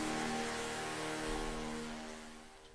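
Layered hardstyle synth lead, built in FL Studio from several stacked layers, one brighter than the others. A dense, bright, buzzing sustained tone that slowly fades over under three seconds, with no voices.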